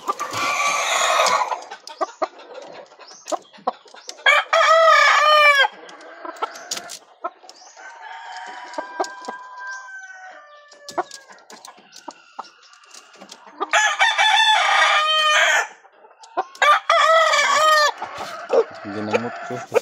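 A red junglefowl (labuyo) rooster crows loudly and close several times, with softer clucks and calls between the crows, in a backyard setting.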